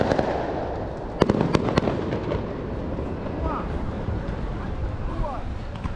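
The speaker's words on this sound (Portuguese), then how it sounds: "O pessoal soltando fogos ali por causa da uma campanha que tá tendo, campanha eleitoral." Fireworks for an election campaign go off near a beach, with a cluster of sharp pops and crackles rising above a steady background of wind and surf while people talk.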